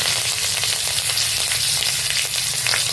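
Mustard seeds and broken dried red chillies tempering in hot oil, a loud dense continuous sizzle and crackle close up, with scattered sharper pops over the steady hiss.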